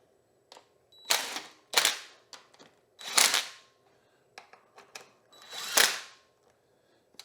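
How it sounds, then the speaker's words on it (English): An impact gun taps the fork cap of a Honda CRF230F into place. Four loud, close, rattling bursts come in quick succession, each a second or less, with softer clicks between them and no talking. "Now we'll give it just a little tap with the impact gun to set it in place."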